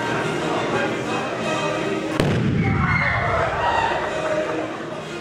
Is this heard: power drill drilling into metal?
no